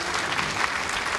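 Crowd applause at the World Indoor Bowls Championships, a brief, even patter of many hands clapping at moderate distance with no talking over it.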